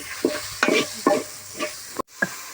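Onions, tomato, chilli powder and turmeric being stirred in a pan, a series of separate scraping strokes over a low background sizzle, close, with one sharp knock near the end.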